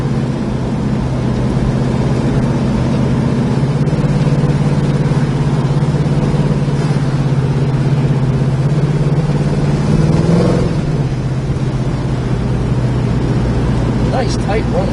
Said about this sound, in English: Nice tight running car.